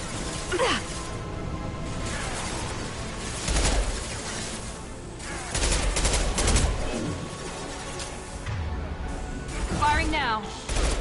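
Sustained bursts of weapon fire in the video game Mass Effect Legendary Edition, a loud barrage with several clustered volleys and crashing impacts, while a voice talks over the action.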